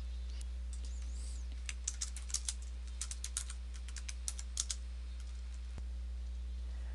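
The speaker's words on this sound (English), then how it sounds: "So I've finished typing in my response." Bursts of computer keyboard typing, quick irregular clicks in short runs with brief pauses, close and clear over a low steady hum.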